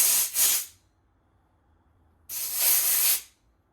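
Compressed air blown through a 1995 Honda VTR 1100 C motorcycle carburetor, two loud sharp hissing bursts, a brief double puff and then a longer blast about a second long, separated by near silence.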